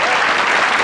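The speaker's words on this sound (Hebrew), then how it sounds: "בוא לו כפיים" Audience applause at a live comedy stage show, a loud, close, continuous wash of clapping from the crowd filling the whole short moment.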